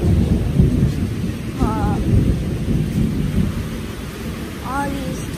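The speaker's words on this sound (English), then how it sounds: "time to cool off in this rainy weather" A thunderstorm rumbles on continuously with steady rain, deep thunder rolling loud throughout, and a couple of brief chirping bird-like calls faintly rising above the downpour.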